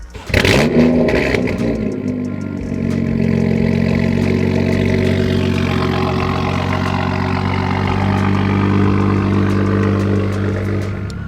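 A BMW with an N55 engine fires up and settles into a smooth, steady idle, heard close with a low constant drone after a brief initial burst and no talking.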